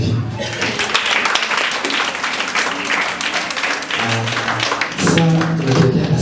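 A church congregation at a Sunday service claps in a steady, dense patter of many hands, loud and close, with voices mixed in near the end.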